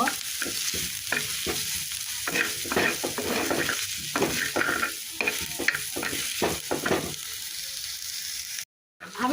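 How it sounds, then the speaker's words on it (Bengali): Onions and chilies fry in a pan with a continuous hiss, while a utensil scrapes and stirs in repeated rhythmic strokes that cut in and out, ending in a brief silence. "এখানে দেখতে পাচ্ছেন আমি পেঁয়াজ আর মরিচ ভেজে নিচ্ছি"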